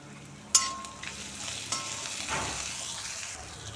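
Three dry red chillies frying in hot oil while tempering for avalakki lemon rice, a steady close sizzle with a sharp crackle at the start and light stirring throughout, no talking.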